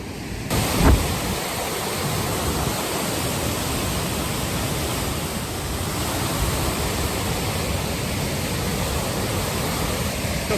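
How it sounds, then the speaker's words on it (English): Wapta Falls, a broad waterfall in Yoho National Park in western Canada, roars as a steady, dense wash of noise from start to finish, with a brief thump near the first second. "This is the falls."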